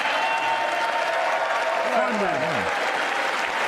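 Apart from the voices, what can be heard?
audience clapping at a speech about police funding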